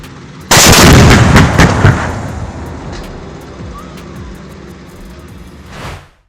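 A K2 main battle tank fires its CN8 120mm 55-caliber smoothbore cannon in one loud, sharp blast that booms and then rolls away into a long fading rumble, with wind noise on the microphone.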